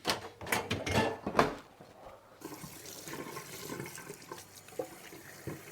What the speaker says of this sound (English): just pull the plug, let it all go down the drain, all the water soak out